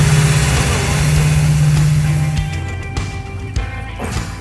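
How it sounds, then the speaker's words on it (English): A vintage circle track Dodge Charger's engine runs steadily and loudly with a deep low drone, its note dropping partway through to a rougher, lumpier idle. "Motor sounds insane."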